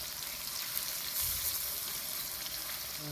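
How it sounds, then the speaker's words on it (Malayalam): Steady crackling sizzle of fish frying in hot oil, a dense hiss continuing throughout with a slight swell midway, no voices. "ഇങ്ങനെ തന്നെ മൊത്തം വറുത്തെടുക്കുക"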